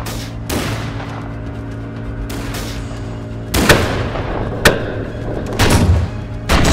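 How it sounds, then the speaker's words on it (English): Sharp gunshots from sniper rifles during aerial sniper training, several loud reports spaced irregularly over a steady engine drone, each with a brief ringing tail. "Master Sniper undergoes aerial sniper training to achieve proficiency in engaging the targets from air"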